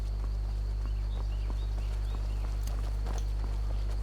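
Steady, evenly spaced footfalls of a character walking through Riverwood in Skyrim, light clopping steps over a loud constant low hum.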